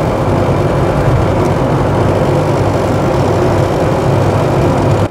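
Steady, loud engine drone heard from inside a Lada Niva being driven with the window closed, with a low rumbling hum and some cabin vibration, continuous and without talk.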